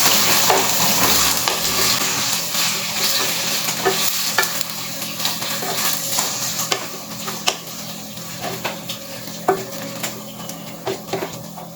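Goan chicken xacuti masala being stirred in a frying pan with curry leaves and green chilies, a constant sizzle under repeated scraping and clinking of a utensil against the pan.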